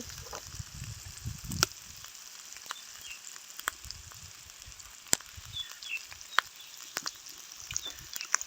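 Chili curry paste stir-fried in a pan, a soft, steady sizzle with occasional sharp clicks and scrapes of a utensil, quiet and close, with no talking.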